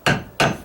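Two sharp, close hammer taps on a screwdriver, driving it under a nail head in a rotted deck board, evenly spaced about a third of a second apart, each with a brief ringing decay.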